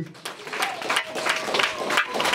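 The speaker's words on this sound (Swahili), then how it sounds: "Wapigie makofi" Audience clapping fills the space at an Easter church conference, a dense steady patter of many hands with a few louder claps, continuing throughout.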